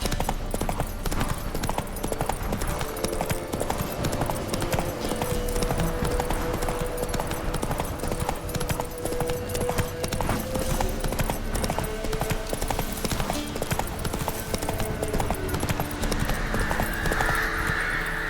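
The horse Roach galloping in The Witcher 3, a fast, steady drumming of hoofbeats that runs on and on, with a faint tonal hum underneath.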